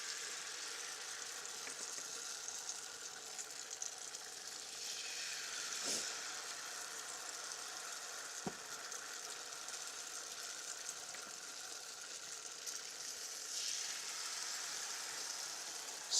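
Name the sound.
dough frying and sizzling in a pan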